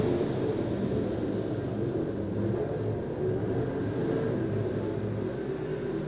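A-Mod race cars at L A Raceway roar as a distant, continuous engine drone that holds steady and faintly rises and falls as the field runs around the track.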